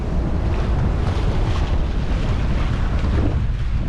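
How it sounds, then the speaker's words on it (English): Strong, gusty wind at sea, around 30 knots, roars steadily across the microphone aboard an offshore sailboat, with water and wave wash underneath and no voices. "The wind's dropped down to a mere 30 knots now"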